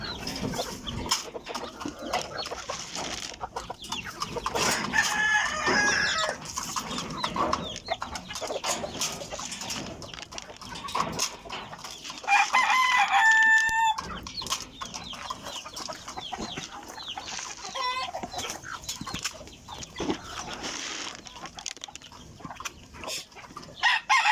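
Backyard chickens at morning feeding, hens loose and roosters tied, cluck steadily at close range while roosters crow in bursts, with scattered scratchy background noise and no talking.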